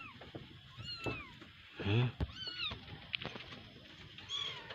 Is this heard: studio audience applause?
no